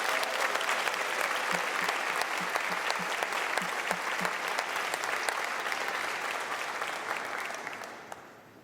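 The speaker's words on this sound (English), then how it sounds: "Y'all give them a big round of applause" A press-conference audience applauds steadily for a Pacers Sports and Entertainment executive and a guest at an Ole Red restaurant and music venue announcement. Dense, even clapping fills the room for several seconds before tapering off at the end.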